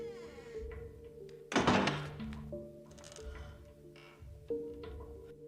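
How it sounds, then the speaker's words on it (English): A door slams shut with a single loud thud in a house's piano room, heard over a quiet background of sustained musical tones, with a softer knock a few seconds later. "But unexpectedly the door slams in her face"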